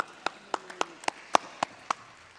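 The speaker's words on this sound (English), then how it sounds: "Just a small round of applause for Geraldine." A small audience gives Geraldine Doogue a brief, sparse round of applause at a plenary session. About eight separate, fairly loud claps are spaced unevenly across a couple of seconds in a quiet room.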